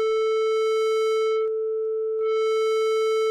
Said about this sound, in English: I'll go ahead and input a 440 sine wave